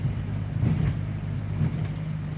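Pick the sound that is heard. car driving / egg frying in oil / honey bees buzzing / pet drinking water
car driving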